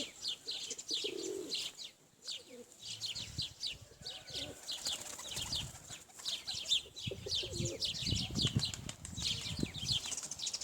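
Pigeons coo and chirp throughout while wings flap in bursts as the birds take flight, close by and fairly busy, with a few low background noises.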